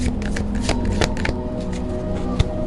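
Tarot cards being shuffled in a steady, close riffling patter of soft slaps and flicks, fairly loud and continuous, with a sharper card snap near the end and no talking.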